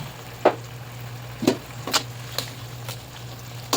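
Hot oil bubbling in a pan ahead of frying bangus, a steady close crackle broken by sharp pops at irregular intervals, with no voices over it.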